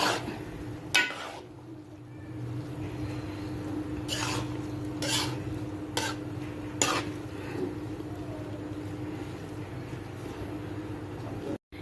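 Rice being stirred and mixed in a pot for sweet zarda, with a handful of sharp spoon-on-metal clinks and scrapes over a steady low hum, no one talking.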